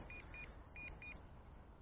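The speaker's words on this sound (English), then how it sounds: "I've got a beep beep, it looks like we lost signal, lost FPV." Four short electronic beeps in two pairs from a JJRC X6 Aircus drone controller as the FPV signal drops, clear and evenly spaced over a low hum of outdoor background noise.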